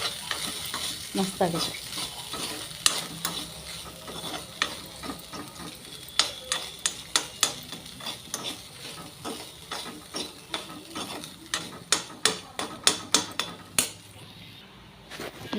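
Garlic rice is stirred and tossed in a sizzling pan, with a metal spoon scraping and clanking repeatedly against the pan over a steady frying hiss, close and busy, with a brief spoken comment.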